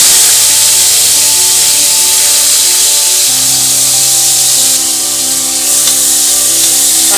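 Onions sizzle steadily and loudly in hot oil with cinnamon, cloves and cardamom, a dense continuous frying hiss with no voices over it.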